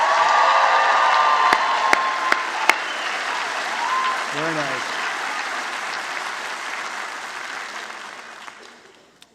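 Graduates at a School of Human Services convocation clap together in a loud, sustained round of applause that slowly fades near the end, with a brief spoken remark and a whoop rising over the crowd.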